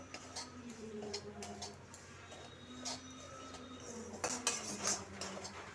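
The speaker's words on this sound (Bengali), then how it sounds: "এখন সুজিটা ভেজে নেব।" Semolina roasting in a pan for a sweet pilaf, with repeated scraping and clinking of a metal spoon against the pan, steady and close under a faint background hum.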